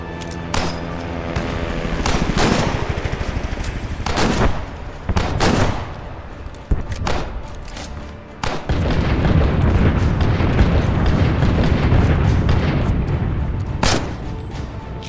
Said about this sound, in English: Fire an artillery barrage on my mark.